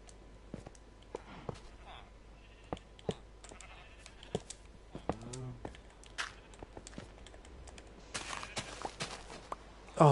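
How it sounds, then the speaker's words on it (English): Sheep bleating on a sheep farm in the video game Minecraft, a few short bleats scattered among footsteps and other game sounds, with a voice talking in places. "Oh, the sheep farm."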